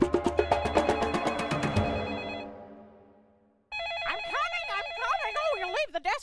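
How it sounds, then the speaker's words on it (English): A desk telephone rings in repeated electronic bursts for about two seconds, then the sound fades out. After a short silence a cartoon voice talks. "you leave the desk for one moment and everything starts ringing"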